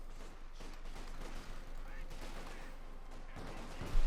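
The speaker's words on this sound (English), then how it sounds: "we got the Puma sort of slowly shooting away there a bit" A Puma armored car fires its autocannon in a Company of Heroes 2 battle, with sporadic bursts and booms mixed into steady battlefield noise and a faint voice underneath.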